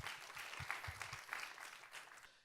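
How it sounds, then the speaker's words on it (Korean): A church congregation clapping together, a dense patter of many hands, fairly faint and distant, fading out toward the end. "우리 주님 앞에 영광과 감사의 박수를 올려드리겠습니다."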